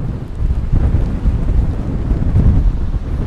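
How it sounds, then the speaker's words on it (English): Strong wind buffets the microphone at a high point in woodland, a loud continuous rumbling roar with gusting surges throughout, no voices present. "It's bloody windy up here."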